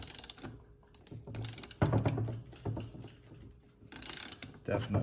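A socket wrench ratchets in quick bursts of rapid clicking during a Honda CT200 Trail 90 engine teardown, close and fairly loud, with quiet gaps between bursts.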